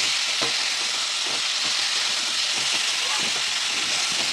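Whole broad beans cooking in a pan with turmeric and salt, a constant loud sizzle and hiss of frying with faint scraping stirs underneath.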